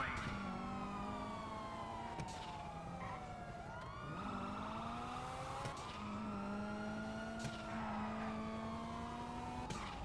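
Police car sirens wail and overlap in the video game GTA 5, several rising and falling tones sweeping across each other amid traffic and engine noise during a chase, loud and close throughout with no talking.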